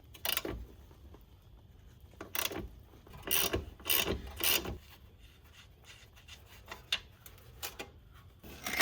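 A ratchet works the 18 mm bottom bolts on a Cadillac XT6 shock absorber during a shock replacement, with bursts of quick ratcheting clicks and pauses between them, fairly faint and close, and no talk.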